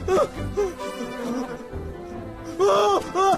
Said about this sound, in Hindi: वो क्या है? मधुमक्खी! भगाओ उसे!